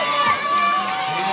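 A crowd at the Villars 2021 lead climbing finals cheers and shouts loudly and steadily for a climber, a brief sustained roar with voices mixed in.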